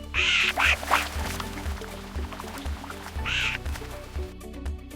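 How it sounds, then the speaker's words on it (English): A duck gives several loud nasal quacks, a quick cluster at the start and another single quack a few seconds later, up close over a steady low background hum. "The duck says, "Quack, quack.""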